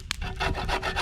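A hand saw cutting through the wood of a fallen tree during yard cleanup, giving steady rasping strokes roughly every third of a second, close and fairly loud with no talking.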